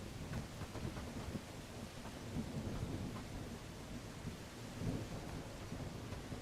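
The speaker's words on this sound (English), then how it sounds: "it's raining hard" Steady heavy rain with low rumbling thunder swells in a Bellwright game world, a dense continuous wash rising into louder surges, close and enveloping with no voices.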